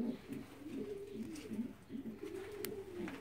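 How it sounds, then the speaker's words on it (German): Blue checker racing pigeons cooing on the nest, a steady run of soft, low rolling coos close by with no talk over them. "Nehmen wir mal hier die Blauscheck-Täuben."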